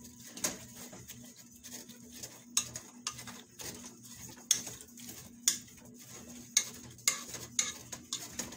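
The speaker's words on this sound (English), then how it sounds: "You have to have a potato masher. And as this cooks, you're going to mash that all down." A potato masher mashes onion in a pan of Spanish sauce as it cooks, giving repeated sharp metallic clacks and taps at irregular intervals over a faint background, with no talk.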